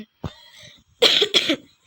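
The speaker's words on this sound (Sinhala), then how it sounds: "ගණන් ගන්න එපා කැස්ස." A person coughs while playing a horror house game, one short cough followed by two harsher, louder coughs in quick succession, close to the microphone in otherwise quiet surroundings.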